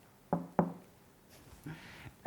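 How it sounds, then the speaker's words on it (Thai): Two light, quick knocks on the glass panel of an LG InstaView Door-in-Door refrigerator, close and crisp, followed by a faint soft rustle in an otherwise quiet kitchen. "LG InstaView Door Indoor นะครับเคาะเบาๆสองครั้งก็เห็นวิปครีมที่เราใช้บ่อยนะครับ"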